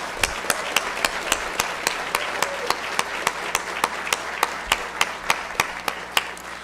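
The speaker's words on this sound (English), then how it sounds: "Can we have one more round of applause for our honorees?" Sustained audience applause at a college honors night awards ceremony for student, faculty and staff honorees, a dense steady wash of many hands with a few sharper individual claps standing out at regular intervals throughout.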